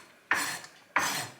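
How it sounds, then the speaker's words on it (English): A knife cuts through a red onion on a board in two crisp, evenly spaced strokes. Each stroke is a short scraping chop, close and clear over a quiet kitchen. "I'm just chopping a red onion"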